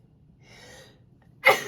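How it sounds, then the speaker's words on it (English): A single loud, abrupt sneeze bursts out near the end after a soft breathy intake, close to the microphone in a quiet indoor room. "I gotta sneeze, I'm sorry."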